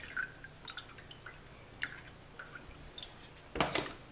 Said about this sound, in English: I'm going to add my fragrance oil again